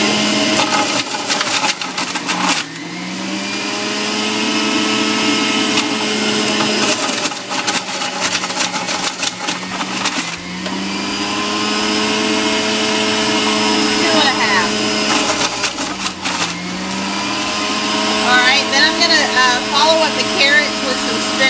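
An electric juicer whirs steadily as handfuls of carrots are fed in, a loud, continuous motor drone with grinding and pitch dips each time the load shifts, running throughout.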